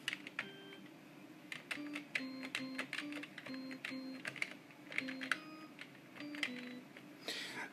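Dulcimer synth notes played on a sound card's MIDI keyboard in a Pentium III PC, quiet plucked tones struck one by one in an uneven melody with audible key clicks, no talking.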